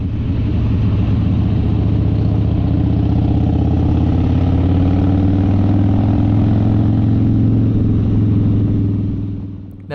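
Motorcycles riding the Haast Pass highway make a loud, steady engine drone close by, revs rising and falling slightly over a constant low rumble before it eases off at the end.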